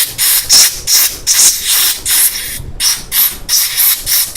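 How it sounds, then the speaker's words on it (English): An air blower cleans small carburetor parts from lawn equipment in a rapid series of short, loud, close hissing bursts separated by brief pauses. "Please be careful when you're using the blower because you could blow all your small parts away."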